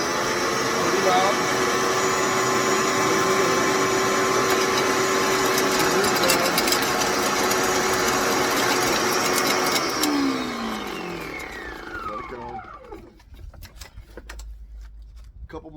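A corded electric garden cultivator runs loudly and steadily for about ten seconds with a whining motor drone, then powers down and winds to a stop, leaving quiet background.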